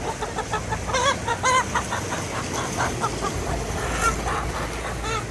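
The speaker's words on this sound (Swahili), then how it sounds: "Makroila makuku makubwa kama haya tunapata shambani." Kuroiler chickens clucking on a farm, a few near birds giving short bursts of clucks and squawks over a dense background of other fowl, with mild rain or noise underneath.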